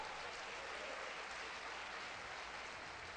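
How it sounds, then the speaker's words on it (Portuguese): Congregation applauding during a church service, a steady, uniform wash of clapping at moderate distance with no voices standing out. "aplauda o Senhor e dê glória a Deus"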